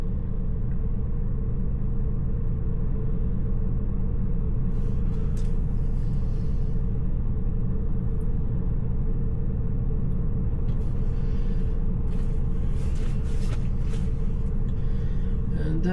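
Steady low engine rumble inside the cab of an Iveco truck driving near Aberdeen just after a service, constant and close, with occasional faint higher rattles and hiss from the cab.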